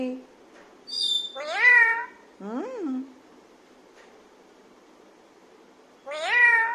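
A parrot imitates a cat's meow, giving a few drawn-out, wavering meows separated by pauses against a quiet background.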